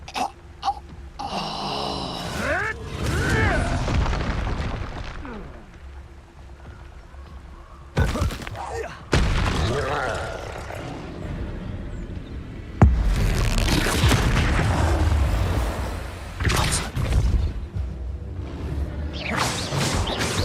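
Expulso explosion spells cast in Hogwarts Legacy: whooshing, wailing magical effects broken by sudden loud bursts and booms, with short silent gaps between flurries of spell noise.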